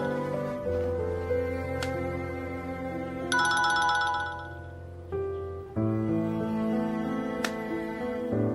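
A phone ringtone plays alone as a steady electronic melody of sustained tones, changing pitch in phrases with brief breaks between them.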